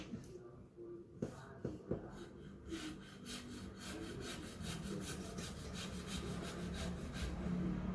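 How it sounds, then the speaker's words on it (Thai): Rough back-and-forth sawing with a serrated blade grinding through hard bone, strokes quickening into a steady rasp, close up and quiet. "ในช่วงกระดูกนี่ต้องใช้ มีดเลื่อย หลายอย่าง ได้ยินเสียงของกระดูกปลายนะ"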